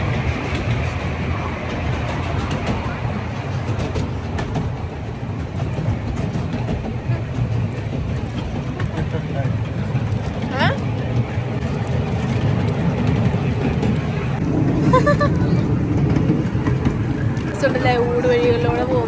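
A train runs through forest in the Currumbin wildlife sanctuary, a steady low rumble of rolling wagons throughout, with people talking nearby and a few brief higher sounds near the end.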